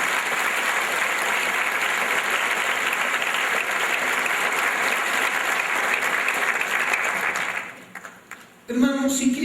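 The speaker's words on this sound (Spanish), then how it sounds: "Dale el aplauso al Señor" A church congregation at a retreat breaks into loud, sustained applause that holds steady for several seconds, then drops away abruptly as a voice begins speaking.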